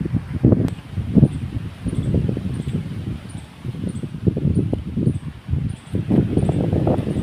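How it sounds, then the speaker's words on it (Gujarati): Steady wind gusting through jamun tree leaves by a farm pond, a continuous rustle that swells and eases in waves, fairly close and moderately loud with no voices. "જુઓ ફૂલે ફૂલ પવન છે મિત્રો જુઓ આ બધા ઝાડવા હલાવીને ડહાવી નાખ્યા"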